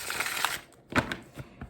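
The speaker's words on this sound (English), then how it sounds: "Shuffling's going down here." Tarot cards being shuffled by hand, giving a few soft papery riffles and rustling bursts, close and fairly quiet, with no talking.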